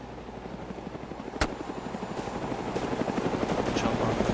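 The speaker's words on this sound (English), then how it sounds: "I'm feeling kind of safe with these choppers in the air." A military helicopter's rotor thumps steadily overhead in BreakingPoint, a fast, even pulsing drone that slowly swells louder, with one sharp click early on.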